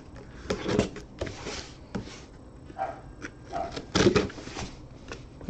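Excited pet dogs bark and yip in bursts around a room, several sharp barks mixed with shuffling and handling noises nearby.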